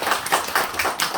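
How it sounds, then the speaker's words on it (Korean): Clapping from the audience at a Buddha's Birthday dharma service in Korea, a short burst of hand claps with a rhythmic, fairly close texture and no talking over it. "큰 박수 부탁드리겠습니다."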